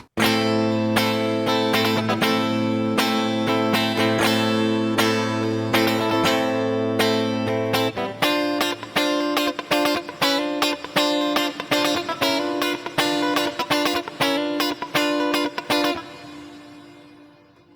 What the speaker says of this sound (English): Let's go with a natural rich reverb